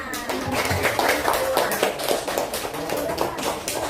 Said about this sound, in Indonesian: Cukup, tepuk tangan.